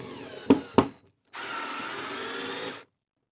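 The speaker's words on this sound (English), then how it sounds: "place in the screw, find the spot, and screw down." Power drill driving screws into wall anchors: two short tool bursts close together, a brief pause, then a steady whir lasting over a second, close and clear with no talk.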